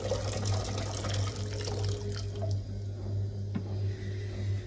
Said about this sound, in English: So just putting in boiling water here.